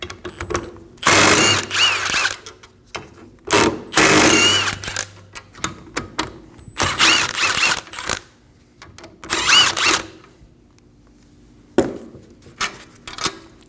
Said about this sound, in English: Using a 12mm triple square, we're going to remove the 4 bolts for our wheel bearing.